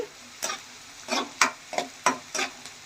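Thinly sliced onions fry in hot oil while a spoon scrapes and stirs them in a series of sharp, close strokes over a soft background sizzle.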